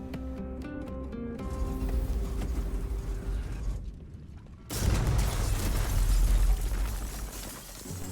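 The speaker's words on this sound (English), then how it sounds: "Getting to the computer and blasting this factory to bits." A factory blown apart in Baldur's Gate 3: a sustained roaring blast with crackling debris, dipping briefly before a second, louder explosive surge that rumbles on to the end.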